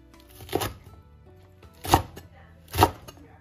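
Knife chopping washed green, red and yellow bell peppers into horseshoe-shaped pieces on a board, three loud separate cuts spaced about a second apart, close and clear, with quiet pauses between.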